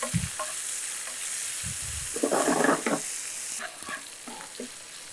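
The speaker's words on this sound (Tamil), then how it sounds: "இப்போ இந்த வெங்காயம் வந்து நல்லா வதங்கிருச்சு." Onions with salt sauté in a pan for chicken pakoda varuval, a steady close sizzle broken by louder spatula scrapes and stirring bursts midway.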